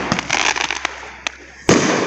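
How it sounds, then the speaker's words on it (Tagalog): Several quick New Year fireworks bangs and crackles go off at a moderate distance from a neighbor's celebration, followed by a louder burst near the end, with a voice heard faintly. "May pa-fireworks ang aming kapitbahay"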